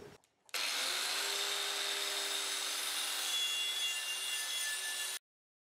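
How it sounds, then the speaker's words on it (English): Sandblaster hissing steadily against a part from an Allis Chalmers 310 tractor under restoration, a loud continuous broadband blast starting after a brief pause and cutting off abruptly, with a faint low hum beneath. "Now let's sandblast it."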